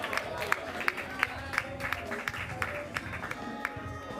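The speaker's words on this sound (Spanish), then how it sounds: "Fuerte aplauso." Applause from the crowd at a gaming encounter, with a run of sharp individual claps standing out over a murmuring room and some voices talking across it for several seconds.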